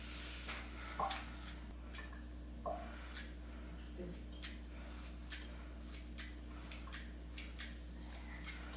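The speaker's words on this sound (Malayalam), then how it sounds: "നമുക്ക് നല്ല ചെറിയ കഷ്ണങ്ങളായിട്ട് മുറിച്ചെടുക്കാം" Boneless chicken breast sliced into small pieces with a knife or scissors, heard as a series of about fifteen sharp, close, crisp snips at an uneven rhythm over a low steady hum, with no talk.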